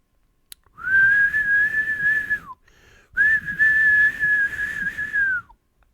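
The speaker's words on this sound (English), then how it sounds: "It's a party whistle." Two sustained, piercing blasts from a party whistle, each held for well over a second and tailing off with a falling pitch, close and loud with a brief pause between them and no voices.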